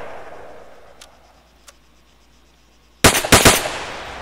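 An MP7 fires on full auto in the Arma III video game, two quick clicks followed by a loud, sharp burst of several rapid shots that cuts off abruptly.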